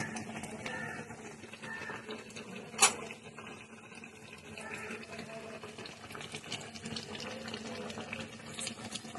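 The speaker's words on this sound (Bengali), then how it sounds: "লেবু রসটা অ্যাড করে দিলাম" Lemon juice being poured into raw mango pickle, a faint, continuous liquid trickle and splash close by, with a soft clink partway through and low background noise.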